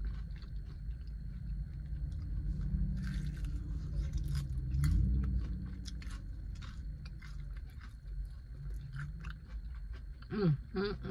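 Close, crisp crunching and chewing as someone bites into extra-crispy honey garlic Korean fried chicken, with repeated crackly bites and wet mastication, faint murmurs in the background.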